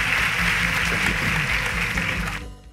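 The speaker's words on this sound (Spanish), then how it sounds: "fuerte el aplauso" Audience applause for guests at a live comedy talk show, a dense steady wash of clapping that fades out near the end, with faint low voices underneath.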